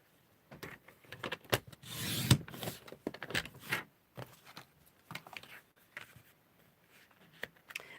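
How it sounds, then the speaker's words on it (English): Quietly, scrap paper is cut. One short, rasping slicing stroke stands out amid soft rustling, taps and paper handling. "I'm going to cut a little bit off there."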